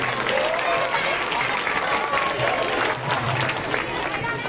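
A school Independence Day celebration audience in Kumar Nagar, Dhule, applauds loudly to welcome a performer, a dense, steady wash of clapping with crowd noise throughout and a voice faintly audible underneath.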